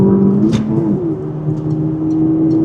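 Engine of a Peugeot RCZ 200THP revving up toward 6,000 RPM on an open road, a steady rising drone heard from inside the car with no talk.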